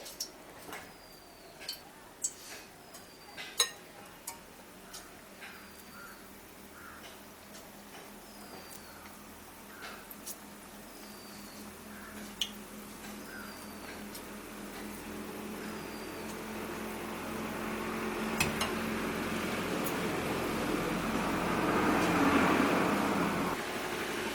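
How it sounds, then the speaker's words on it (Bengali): Small dal pakoras deep-frying in refined oil in a wok over a medium flame, scattered clicks and pops at first, then a soft sizzle that swells into a steady hiss. "ছোট ছোট করে তেলের মধ্যে দিয়ে দিচ্ছি"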